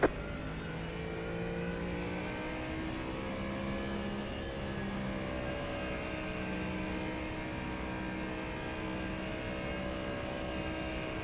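Ford Mustang GT3 race car at Spa-Francorchamps in the iRacing simulator, its engine droning steadily with layered harmonic tones throughout, loud and continuous with no talk.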